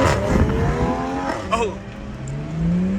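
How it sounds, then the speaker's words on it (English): A BMW 340 car revs hard for a burnout, its engine note rising and falling close by, with a brief tire squeal and a voice speaking over the engine roar. "I think I do a burnout with one hand."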